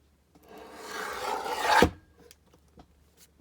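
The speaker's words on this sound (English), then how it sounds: "So I'm just going to trim the side here." A paper trimmer blade slices along the edge of old book pages for junk journal crafting, a steady rasping cut that builds for about a second and a half and ends in a sharp snap, followed by faint handling clicks.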